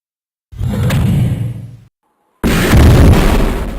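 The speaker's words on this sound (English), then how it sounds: "there's this statue thing here and it doesn't stop firing at us" A statue in the Shadow Warrior game fires at the player, producing two loud, booming blasts with whooshing tails, separated by a brief silence.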